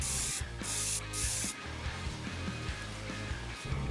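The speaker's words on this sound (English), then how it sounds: "spraying the stars on using a template" Spray paint hissing onto wood through a star template: a few short, loud aerosol bursts near the start, then quieter rubbing and handling sounds.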